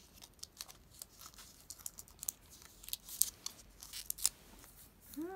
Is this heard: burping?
no